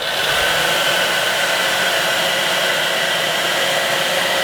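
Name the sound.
blow dryer on low setting drying lure paint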